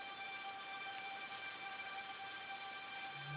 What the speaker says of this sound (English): From the melancholy sky, a soft rain began to fall.